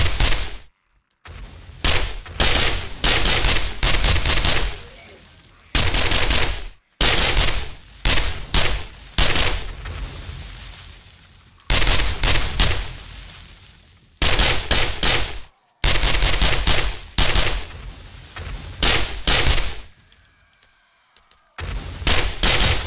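Dynamite going off in the survival video game 7 Days to Die, a long run of loud, sharp blasts fired in rapid bursts, with short gaps and a few quieter pauses between the volleys.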